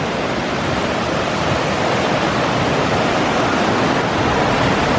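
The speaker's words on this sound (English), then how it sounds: "The waters are really flowing out of these hills." Water pours steadily out of the hills in the Laurel Highlands, a full continuous rushing roar of streams in cold, wintry backcountry, loud and unbroken throughout.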